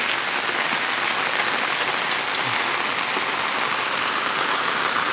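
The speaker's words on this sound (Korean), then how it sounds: "어쩌자고 이렇게 날이면 날마다 비가 오는지" Steady rain falls heavily, a dense, even hiss of drops on surfaces that continues throughout without a break.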